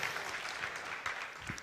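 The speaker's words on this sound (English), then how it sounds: "Let's have a round of applause for them." A crowd applauds steadily at a speaking event, a dense, even wash of many hands clapping that holds at moderate loudness throughout, with no voices on top.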